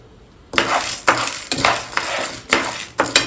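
Chana dal poured into a pan left oily from an earlier roasting step, sounding as a series of sharp metallic clinks and scrapes of a spoon stirring it, about half a second apart, close up with no talking.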